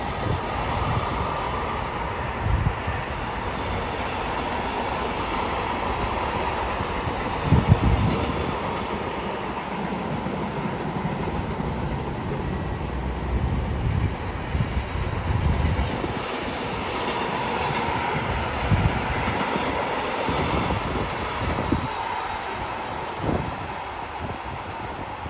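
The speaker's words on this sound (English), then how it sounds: "worked by 66 513 working a container train going from Leeds to Southampton" A Freightliner Class 66 diesel locomotive, 66 513 in two-tone livery, hauls a fully loaded container train from Leeds to Southampton through Didcot Parkway, a continuous rumble and clatter of wagons rolling past with occasional louder knocks.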